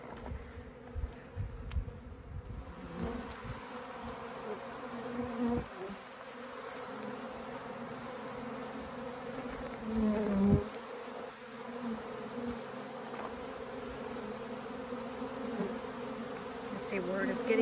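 A starving honeybee swarm in southern Arizona hums around a box set over a sugar syrup bucket in November, a steady dense buzz with individual bees droning close past, faint and continuous throughout.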